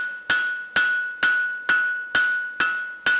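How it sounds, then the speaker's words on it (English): A power hammer forges a steel bar, drawing it down toward 8mm square: seven evenly spaced, loud metallic blows, each ringing out briefly before the next, with no talk. "we'll pass this under the hammer once more"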